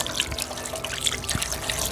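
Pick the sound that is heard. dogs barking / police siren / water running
water running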